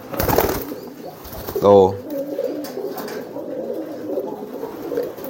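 Pigeons being trained to drive to the nest give a clear, close, throaty coo, then softer repeated cooing and murmurs continue in the background, with a brief voice at the start.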